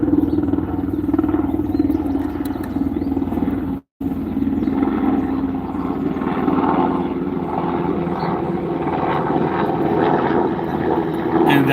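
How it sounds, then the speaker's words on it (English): A military helicopter passes overhead with a loud, steady rotor and engine drone that holds throughout, broken only by a brief dropout. "And that's a military helicopter."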